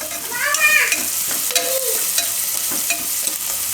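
Chopped onions cook in oil and sizzle steadily up close while a spoon stirs them, adding light scraping. Brief squeaky metallic scrapes cut through the frying now and then.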